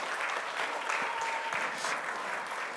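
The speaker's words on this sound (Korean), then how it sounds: "우리 큰 박수 한번 쳐주시기 바랍니다" A congregation applauds together during a Sunday church worship service, a steady, dense wash of many hands clapping at once that holds evenly throughout without pauses.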